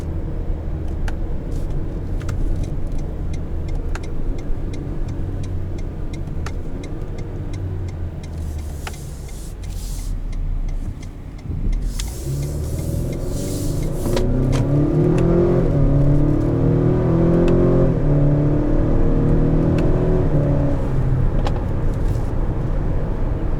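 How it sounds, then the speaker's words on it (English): A 2019 Acura RDX Advance accelerates hard at night, its engine droning and climbing in pitch through quick upshifts, then rising into a loud, sustained rev heard from inside the cabin, with no talking. "This transmission in manual mode will fly through gears."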